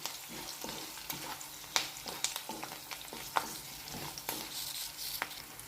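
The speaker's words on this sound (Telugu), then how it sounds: "పచ్చిమిర్చి ఫ్రై అయ్యే వరకు కలుపుకుందాం." Green chilies and curry leaves fry in hot oil for an atukula mixture, with steady close sizzling and repeated scraping stirs of a spoon in the pan, no voices.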